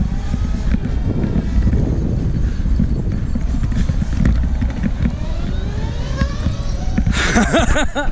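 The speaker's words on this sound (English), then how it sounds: "Steve, just taking the Livewire out for his first ride" Harley-Davidson 2020 LiveWire electric motorcycle riding off, a steady loud whine and road rush under heavy outdoor wind noise, with a rising electric motor tone toward the end; no combustion engine rumble.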